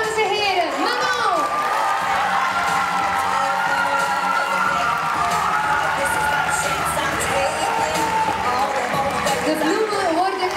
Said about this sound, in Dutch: Nogmaals, jullie applaus, dames en heren.